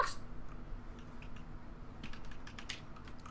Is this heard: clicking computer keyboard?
yes